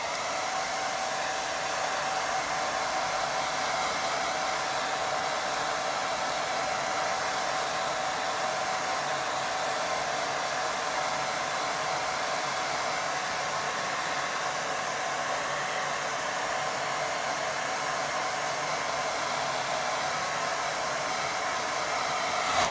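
A hair dryer blows on a wet watercolour painting, a steady, loud whooshing hum with a constant whine that runs unbroken the whole time, with no voices over it.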